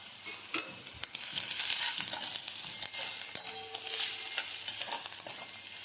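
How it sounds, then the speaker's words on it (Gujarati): Garlic paste sizzles with pink-browned onions and chopped chillies in a pan, a quiet continuous frying hiss broken by scattered clicks and spoon scrapes. "હવે આમાં લસણની પેસ્ટ નાખીશું"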